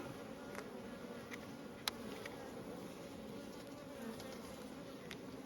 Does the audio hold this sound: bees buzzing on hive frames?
yes